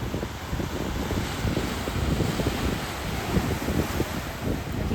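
Water washes steadily against the seashore at Kanyakumari, a continuous broadband rush mixed with wind noise buffeting the microphone, with no voices.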